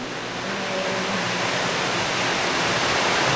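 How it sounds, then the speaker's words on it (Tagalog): Rain pours steadily on a house, a dense, even hiss that swells slightly louder over a few seconds with no other sounds. "first time namin dito na naulan dito sa bahay"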